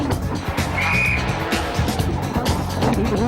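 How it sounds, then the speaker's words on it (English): A 2003 World Rally Championship car driving on snow in Sweden on special tyres, its engine roaring loudly and steadily with brief tyre scrabbling, a close continuous rally drive under commentary-free noise. "Driving on snow in Sweden demands special tyres and a very special skill."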